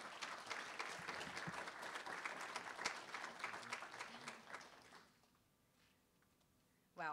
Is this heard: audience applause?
yes